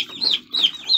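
Baby chicks peep in three quick, high chirping bursts, close by and fairly loud, gathered at a homemade chick feeder.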